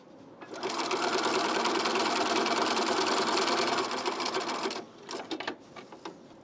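A sewing machine back stitches a T-shirt seam in a steady close mechanical whir of rapid needle strokes for about four seconds, then a few short bursts and clicks as it stops.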